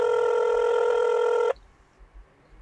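A telephone rings for an incoming call with a steady electronic tone lasting about a second and a half, then stops abruptly, leaving quiet room noise.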